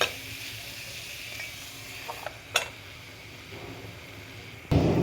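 Tomatoes frying in a pan with a soft, low sizzle, a couple of brief utensil clinks partway through and a louder burst of frying noise at the end, close up with no talking.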